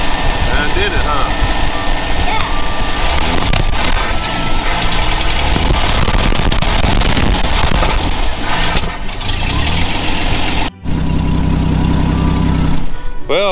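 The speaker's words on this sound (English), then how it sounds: "Now it's been idling here for a good while." Worn-out car engine with an old distributor idling steadily after its points were adjusted, a continuous close mechanical rumble, with people talking over it.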